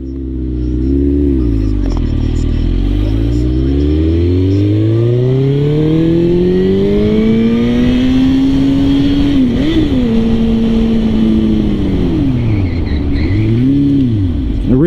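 A loud, close 2006 Suzuki GSX-R1000 sport motorcycle engine revs up and down, its exhaust note rising and falling in pitch through repeated acceleration and gear changes, with no talking.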